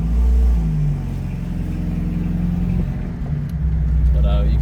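A Jeep YJ Wrangler engine idles close by with a leaky new exhaust, a low steady rumble that swells slightly at the start and end, with speech over it.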